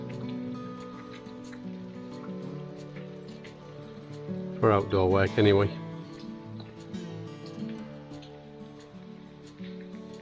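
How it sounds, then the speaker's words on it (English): Steady rain falling outdoors, a continuous patter on surfaces throughout, with someone speaking briefly over it near the middle. "it's been raining for about an hour now"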